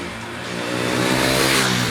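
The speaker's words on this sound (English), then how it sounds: "The Duke 390's exhaust note is constant throughout from idle to the top end." A KTM Duke 390 motorcycle engine revs up, its exhaust note rising from a lower drone into a louder, buzzy pitch that climbs over two seconds, close and with no talking.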